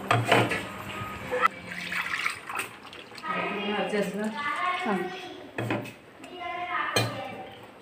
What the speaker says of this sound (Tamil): இப்போ நம்ம மிக்ஸி ஜாரை கழுவி அந்த தண்ணியை அதில் சேர்த்துக்கலாம்.